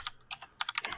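Quiet computer keyboard typing, a quick run of soft clicks and taps close by with no talking.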